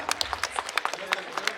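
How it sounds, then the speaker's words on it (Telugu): An audience at a Sankranti rangoli competition stage event in Khammam claps for a child, a brief burst of scattered, uneven hand claps at moderate distance. "చిన్నారికి మనందరూ కూడా ఒకసారి గట్టిగా క్లాప్,"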